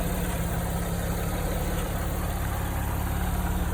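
An Alfa Romeo 156 with Q-System gearbox idles with a steady low rumble and constant vibration, close by and fairly loud, with no clear rise in revs.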